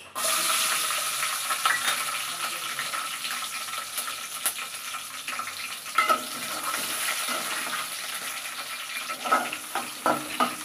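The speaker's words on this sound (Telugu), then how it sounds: "ఈ పచ్చిమిరపకాయలు అనేది ఆయిల్లో ఫ్రై చేసి తీసుకుందామా" Green chillies fry in oil over a low gas flame with a steady, close hiss of sizzling and occasional stirring scrapes and soft pops.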